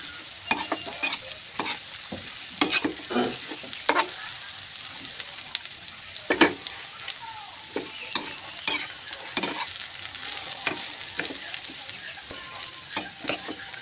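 Tofu frying in a pan with steady sizzling throughout, broken by repeated scraping and clacking strokes of a utensil stirring it, close and fairly loud.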